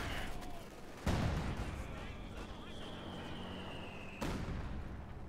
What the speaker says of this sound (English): 120mm helping out here in this little duel here of the machine guns